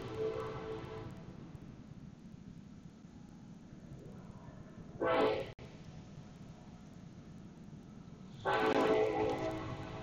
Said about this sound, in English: Sorry for the train going by.